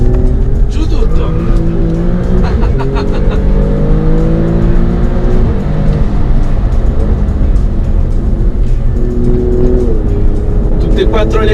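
An Alfa Romeo Stelvio Quadrifoglio twin-turbo SUV engine accelerates hard, revving up through the gears with rising pitch, loud and close, with faint tire noise as it pulls.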